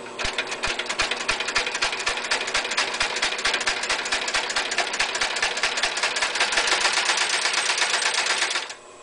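Adler 205-64 industrial sewing machine sewing at a steady rapid clatter for about nine seconds, close and loud, running briefly slower before speeding up, then stopping abruptly at the end; no talking.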